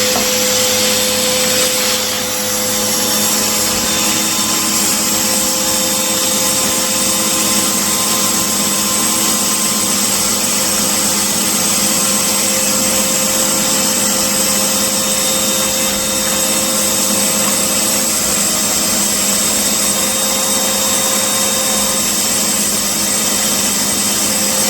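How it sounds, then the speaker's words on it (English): A household vacuum cleaner runs steadily and loudly indoors, a constant motor whine with sustained high-pitched tones and no pauses, heard alone from start to finish during flat-pack furniture assembly at home. "switch your hoover on"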